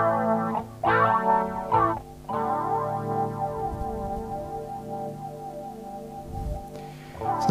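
Electric guitar played through a USB guitar cable into a software effects rack, with a few struck chords ringing out sustained and processed, heavily effected with a shimmering, chorused tone, loud and close.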